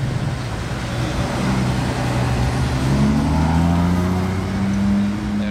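Several cars rolling past in a Monaco street as a convoy, a steady close engine hum and low rumble with a rising note toward the end, continuous traffic noise throughout.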